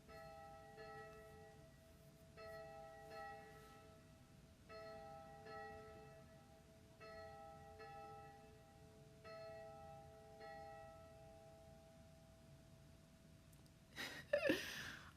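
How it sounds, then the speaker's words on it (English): Church bells ring nearby in a steady series of tolls, their sustained tones overlapping and decaying, with a sharper burst of noise near the end. "the church bells wanted to be a part of that as well"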